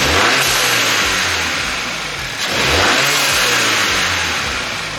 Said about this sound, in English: But now that it's warmed up, let's rev it.